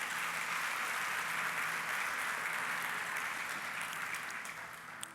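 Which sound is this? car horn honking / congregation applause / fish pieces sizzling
congregation applause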